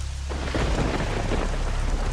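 Heavy rain pours down while deep thunder rumbles through, a loud continuous wash of falling water with a low roll beneath it and no voices.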